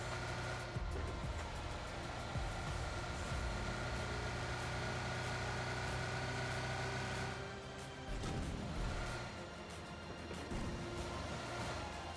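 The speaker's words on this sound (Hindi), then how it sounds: "अब यहाँ पे गाइस मेरे को गाड़ी की साउंड आती है" A vehicle engine in the battle royale game PUBG drones steadily as a constant mid-pitched hum, joined by clattering impacts and game noise throughout.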